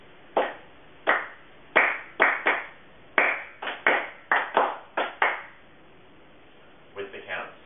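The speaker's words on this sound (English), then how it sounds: "the first rhythm we did, we're going to clap out for you" In a beginner Lindy Hop dance class, hands clap out a swing rhythm: about a dozen crisp, close claps in a syncopated pattern of singles and quick doubles, then a pause before a few softer claps.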